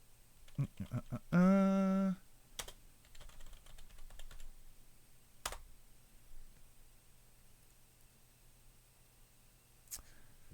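Computer keyboard typing in scattered bursts of quiet clicks, interrupted early by a loud tonal harmonic sound and a few sharp isolated clicks, then mostly sparse faint taps.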